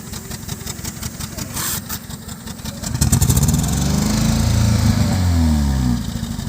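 A misfiring Kia Rio engine runs rough and loud up close, then revs harder with a chugging, tractor-like beat that holds before easing back near the end.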